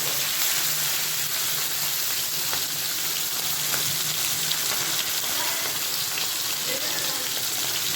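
Masala-coated fish sizzling in hot oil on a tava, a steady, dense crackle and hiss that holds evenly throughout with faint scattered pops and no talk.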